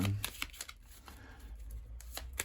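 Lenormand cards cut and dealt into a nine-card spread during a reading, making a series of soft, crisp taps and flicks at a loose rhythm, close by, over a low steady hum.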